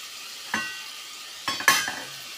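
Vegetables frying in oil in a pan are stirred, with a couple of quick close scrapes and clinks over a faint, steady sizzle.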